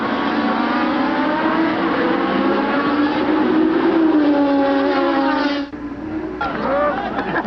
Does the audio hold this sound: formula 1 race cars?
yes